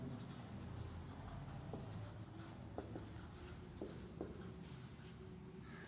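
Chalk or marker scratches across a classroom board during a trigonometry lecture, producing faint, intermittent strokes and taps at an irregular pace over quiet room background with no speech.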